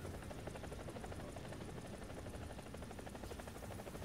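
A helicopter in a combat video game, its rotor thumping in a fast steady pulse over a broad engine drone, loud and close throughout with no speech.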